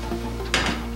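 A thin pancake lifted off a hot frying pan, a brief metallic scrape and clink of the turner against the pan over a low steady hum, close and short.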